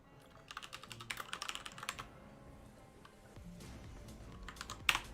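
Keys clatter on a computer keyboard in quick, uneven bursts, fairly close and moderately quiet, with a short pause midway before the typing resumes and ends on a sharper keystroke.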